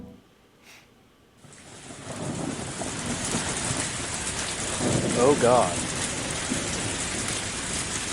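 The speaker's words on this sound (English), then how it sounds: "It's even raining here." Steady heavy rainfall from the Higurashi When They Cry visual novel sets in abruptly after a quiet opening and keeps up a dense, loud hiss, with a low rumble of thunder partway through and a brief spoken exclamation early on.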